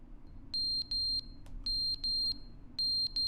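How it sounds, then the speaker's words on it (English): Loud electronic alarm beeping in the video game The Stanley Parable, in repeated bursts of rapid high-pitched beeps with short gaps between them, close and clear over a low background hum. "There's a loud beeping."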